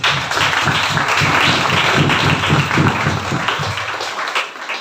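An audience bursts into loud, sustained applause, a dense crowd of clapping that holds steady for several seconds and then begins to fade toward the end.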